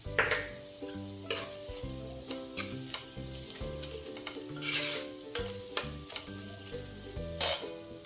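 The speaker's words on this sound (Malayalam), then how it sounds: "ഇതൊക്കെ ഒന്ന് ആദ്യം നന്നായിട്ട് മൂപ്പിച്ചെടുക്കാം." Spices with pepper powder frying for chana masala, with a steady soft sizzle in the pan broken by several sharp scraping stirs, close up and without voices, while a melodic musical background plays underneath.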